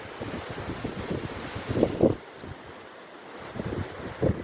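Wind and sea waves around a small island out at sea, a steady windy rush buffeting the microphone with swelling surges of surf, loud and continuous with brief lulls.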